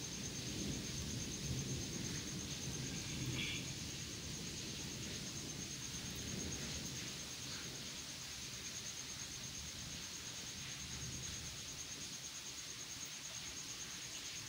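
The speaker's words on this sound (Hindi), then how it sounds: "मेरे प्यारे अल्लाह मियाँ ने रहमत की बारिश बरसाई।" Heavy rain pours at dawn after several hot days, a dense, steady, close hiss that stays level throughout with no voices.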